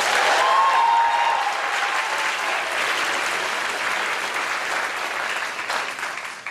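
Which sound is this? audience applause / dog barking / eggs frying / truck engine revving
audience applause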